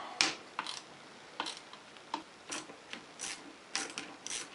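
A hand ratchet works bolts loose on a Suzuki GS850 motorcycle during a teardown, giving short bursts of rapid clicking separated by brief pauses, close by and fairly quiet, with no talking.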